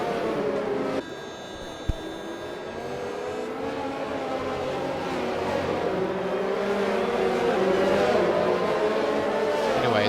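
Race cars from an F1 video game at a Canadian circuit drone and whine steadily as engines hold a high pitch, a continuous loud pass of several cars with shifting tones and no talk.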